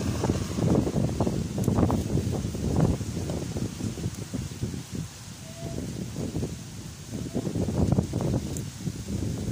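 Wind gusts blow by the sea, rising and falling in rough, buffeting waves of noise that knock against the microphone, with no clear voices.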